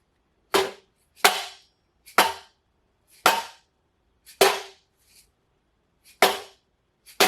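Seven sharp metallic strikes from a soft-headed hammer on a Toyota FJ Cruiser front suspension part ring out at uneven intervals, each a loud bang that quickly fades, with quiet between the blows.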